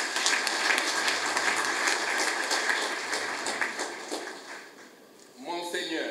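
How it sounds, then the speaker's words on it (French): A room full of guests at a book launch breaks into applause, a loud crackle of clapping that tapers off after a few seconds before a voice begins speaking. "Je voudrais vraiment vous demander de nous applaudir."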